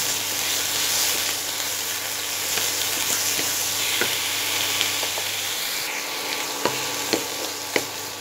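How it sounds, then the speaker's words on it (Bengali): Taro leaves frying in a pan over medium heat give a steady close sizzle, broken by a few sharp spatula clicks toward the end. "এইবারে হিট মিডিয়ামে রেখে আমি দু মিনিটের মতো পাতাটা একটু ফ্রাই করে নেব"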